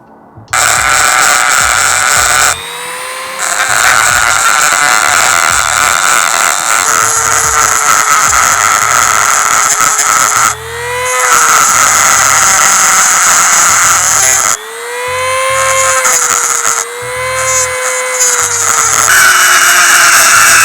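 A Dremel rotary tool grinds down an engine cylinder head, a loud, close high-pitched whine running in long bursts with brief pauses and pitch dips as the bit bites into the metal, no talking.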